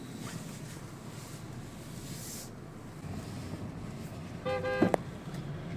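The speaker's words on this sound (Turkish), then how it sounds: "Ya ne korna çalıyorsun" A car horn sounds in a short burst of honks near the end, over steady road and wind noise at a busy roadside industrial repair area.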